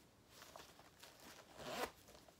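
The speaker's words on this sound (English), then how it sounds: "a zipper pocket" A zipper runs on a black smooth leather crossbody purse with studs on the front, a quiet scratchy pull that builds and ends in one quick louder zip near the end, alone with no talking.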